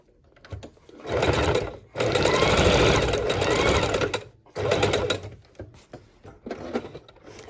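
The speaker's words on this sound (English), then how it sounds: "let's throw that under the sewing machine and trim it up real quick" Sewing machine stitching paper junk journal pages, running in three bursts of steady rapid whirring, close and loud, with short pauses and light handling noise in between.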